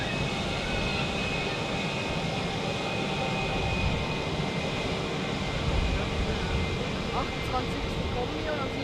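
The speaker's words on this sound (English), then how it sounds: "This A320 is now taxiing on taxiway Foxtrot" An Airbus A320 taxis along taxiway Foxtrot at Zurich airport, the inner parallel taxiway beside runway 16, giving a steady, continuous broadband engine rumble and whine at moderate distance that holds level throughout.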